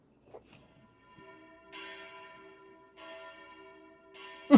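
A church bell sound effect rings in several separate, evenly spaced tolls, each a resonant sustained chime at moderate level, ending with a sharp louder hit.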